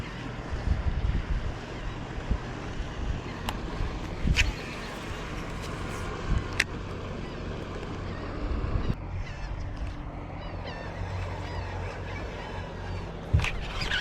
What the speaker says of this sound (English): And of course, here comes a boat.